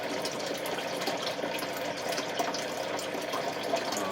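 A small 260-gallon-per-hour pump in a closet aquaponics setup keeps water moving with a steady, fairly quiet rushing and trickling wash that holds at an even level throughout, with no voices.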